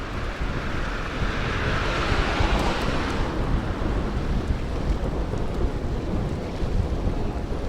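Wind roars across the microphone while cycling through Berlin with an east wind blowing, a loud, continuous rumbling buffet that lasts the whole stretch without letting up.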